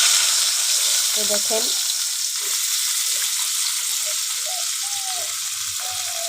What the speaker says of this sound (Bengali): তো গাইস এখন তেল গরম হয়ে গেছে, এখন করলা দিয়ে দিবে